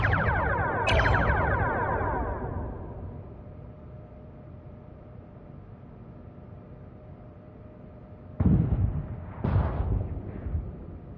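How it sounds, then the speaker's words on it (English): Torpedoes fire at a ship in Star Trek: Bridge Crew with a heavy booming launch that rumbles and fades, then a second pair of sharp blasts comes near the end. "Target the nearby ship and fire torpedoes at it."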